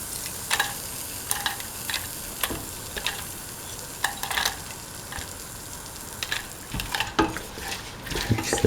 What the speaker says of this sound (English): Mix the lentil with the rest of the ingredients.